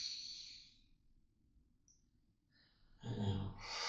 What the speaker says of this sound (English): big, deep breath in.